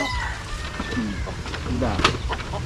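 Chicks peeping in a rural farm setting, thin high chirps scattered among rooster and hen clucking, with people talking throughout.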